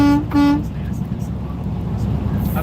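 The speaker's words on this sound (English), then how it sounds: "Want a little truck horn sound?" Truck horn giving two short, loud blasts in quick succession, followed by the steady road rumble of the moving truck.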